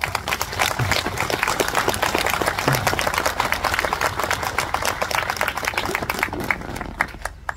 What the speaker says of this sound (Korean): 도령 국사님 박수 한번 드시죠.